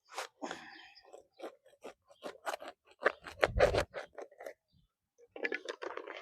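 Blade cutting through Shasta daisy roots while a clump is divided for replanting, a series of close crisp snips and crunches in quick irregular succession, then a short pause and a few more cuts.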